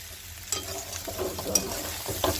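Food is stirred and sautéed in a pan while milk and water are about to be added, with scraping spatula strokes and clinks over a steady sizzle, close and moderately loud, no speech.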